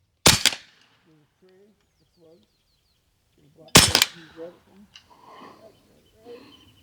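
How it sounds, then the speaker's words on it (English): An AEA SF .30 caliber belt-fed pellet gun fires two sharp, loud shots several seconds apart, each a sudden crack followed by faint metallic ringing and quiet mechanical clicks in between. "It is pretty gratifying to shoot pellets in a pellet gun"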